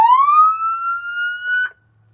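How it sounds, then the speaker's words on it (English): A fire rescue vehicle's siren sounds alone, close and loud, in a single wail tone that rises and holds steady for under two seconds before stopping abruptly. "Your siren is next. Wail,"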